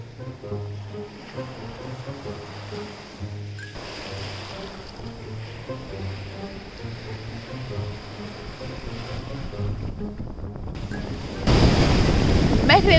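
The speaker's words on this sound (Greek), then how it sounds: "Ελπίζω να ακούγομαι από το κύμα." Sea waves wash against a rocky beach on Santorini in a steady, broad rush, with a low hum underneath and a louder surge of surf near the end.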